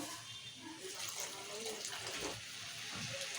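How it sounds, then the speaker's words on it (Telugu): A steady gush of water pours into a pan of fried moong dal and onions, a continuous splashing rush lasting a few seconds. "ఇప్పుడు కొన్ని వాటర్ నీళ్ళు పోసుకుందాం మనము"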